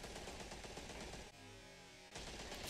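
Rapid gunfire plays in The Walking Dead: A New Frontier video game as a faint, continuous crackle of shots. It breaks off for about a second midway, then resumes.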